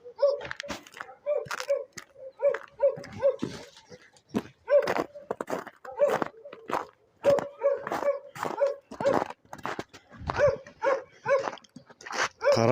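Dogs in an outdoor enclosure bark repeatedly in sharp bursts, mixed with yips and whimpers, loud and close throughout.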